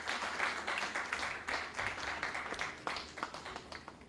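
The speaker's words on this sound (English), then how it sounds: "with a thunderous round of applause, please." Audience at a banking quiz contest applauding the finalist team as they come on stage, sustained loud clapping that gradually thins toward the end.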